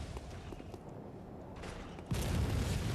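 An enemy fires at the player in Bloodborne: low, muffled combat noise sits in the background before a louder, sustained rumble of gunfire swells in near the end.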